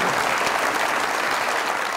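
Studio audience on a television comedy talk show bursts into sustained, dense applause, loud and even throughout with no talking.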